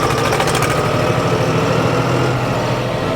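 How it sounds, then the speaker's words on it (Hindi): A diesel John Deere tractor engine runs loud and close with its revs raised, a steady, rough mechanical drone with no break. "अभी यहाँ मैं इसको रेप भी कर रहा हूँ रेस को, यानी कि मैं आरपीएम भी बढ़ा रहा हूँ"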